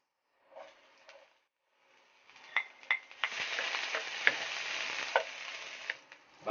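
Onion sautéing in cooking oil in a pan, starting with a few brief clinks and taps, then a close, steady sizzle that builds and holds, broken by sharp utensil clicks, with no talking.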